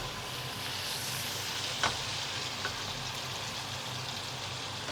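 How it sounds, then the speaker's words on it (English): Steak fries in a pan while butter is basted over it, giving a steady close sizzle and hiss with a couple of brief clicks from the pan. "just get that butter moving around the steak"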